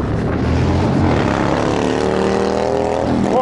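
Loud engine roar with a rising drone as a motorcycle and a truck race past close by at night in a small American town, continuous and steady, no voices.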